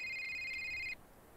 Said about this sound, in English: Here's my phone call.